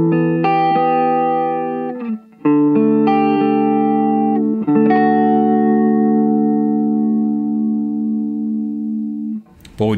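Electric guitar chords ring through a Way Huge Blue Hippo modulation pedal as its speed control is adjusted, loud sustained strums with wavering chorus-like shimmer, broken by brief pauses between strikes.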